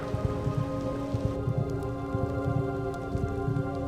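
Rain falls in the X-Men: Destiny video game as a steady patter with scattered drop taps and soft low thumps, laid over a sustained droning tonal hum, with no voices.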